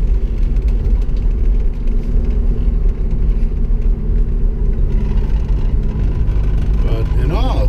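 A Jeep Wrangler SE with a slipping transmission drives at about 30 mph and shifts into third gear, giving a steady loud engine and road rumble with a faint change in tone near the end, without speech.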